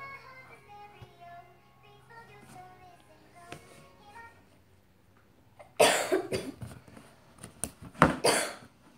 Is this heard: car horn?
no